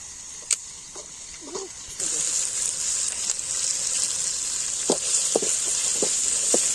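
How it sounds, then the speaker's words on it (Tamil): Cloves, cinnamon and ginger-garlic paste sizzle in a pan for a rabbit stir-fry, a steady loud frying hiss with a few clinks and scrapes of stirring. "கிராம்பு பட்டை இஞ்சி பூண்டு பேஸ்ட் வதக்கலாம்பா."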